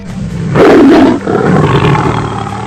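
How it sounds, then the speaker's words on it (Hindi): A fierce black tiger in a cartoon lets out one loud, close roar that swells and then trails off into a rumbling growl. "बाघ ने गरज कर हमला किया।"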